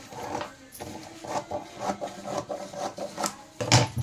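Scissors cutting through saree fabric to shape a churidar, giving a steady run of close, crisp rasping snips.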